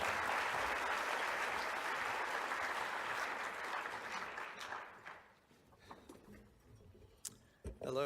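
An audience applauds to welcome a speaker onto the stage at an academic lecture, steady loud clapping from a full room that gradually tapers off into a few scattered claps and small noises.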